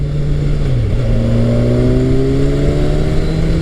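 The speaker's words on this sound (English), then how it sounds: "the throttle automatically blips on downshifts" Kawasaki Ninja 1000SX motorcycle engine revving steadily, with a throttle blip on a downshift early on, then rising engine pitch as it pulls, loud and close with no talking.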